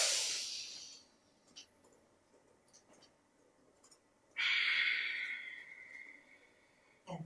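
Breath drawn in during a yoga forward bend, two audible airy inhales near the microphone, one at the start and a longer one later, with quiet between them.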